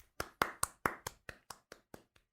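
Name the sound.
applause, hands clapping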